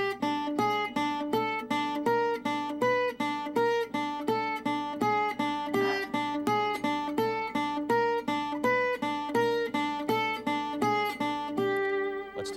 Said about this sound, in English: the next staccato pattern would be a staccato with an open string in between